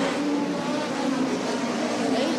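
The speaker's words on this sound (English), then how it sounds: "Tanner Carrick takes over that top spot and leads your field into turn one" USAC race cars at Sweet Springs Motorsports Complex give off a continuous roaring engine drone, with engines whining as the field races into the first turn.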